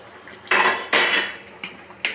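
A metal lid set down on a cooking pot in a home kitchen where a curry with catfish and lentil fritters is being made, giving two clear clanks followed by two lighter taps, with no talking.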